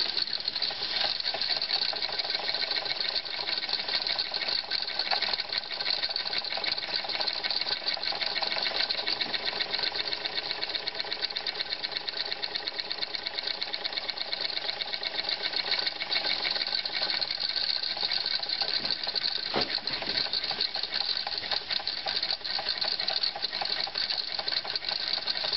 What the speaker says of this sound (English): That's the engine running real slow.